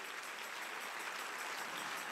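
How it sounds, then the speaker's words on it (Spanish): A church congregation applauding during a sermon, producing a dense, even wash of clapping that holds steady throughout at a moderate distance. "vamos, dele mejor el aplauso al Rey de Reyes"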